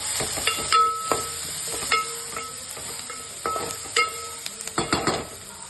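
Onions frying in a pan, a steady sizzle broken by repeated clinks and scrapes of a spoon stirring against the metal, close and fairly loud with no talking.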